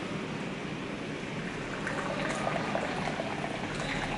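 Hot tea streaming from a gaiwan poured from a height, a steady splashing liquid rush that holds level throughout, close and fairly loud, with no talk.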